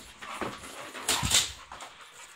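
A Blue Nose Pitbull whimpering outdoors, a few short high whines and yips at uneven intervals, close but fairly soft.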